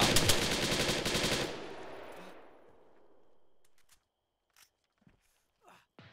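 Rapid automatic gunfire in Arma 3, a loud burst of machine-gun shots that stops abruptly and decays into a fading echo, followed by a few faint scattered thuds and steps.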